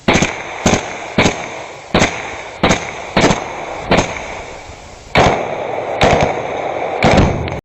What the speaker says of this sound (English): Fragmentation grenades land inside the dugout